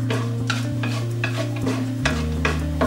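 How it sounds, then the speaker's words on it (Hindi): Chana dal and urad dal roasting in coconut oil for a South Indian tomato chutney, a steady close sizzle broken by repeated scraping stirs of a spoon against the pan, with a low background hum throughout. "आइए अब हम दालों को भूनते रहेंगे जब तक इनका कलर हल्का ब्राउन ना हो जाए।"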